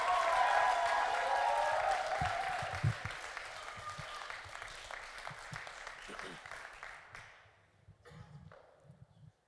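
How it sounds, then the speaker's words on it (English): An audience at a youth poetry event claps and cheers loudly, the applause fading over several seconds while scattered voices rise at the end. "So I want y'all to please clap it up for my homie from Pine Ridge"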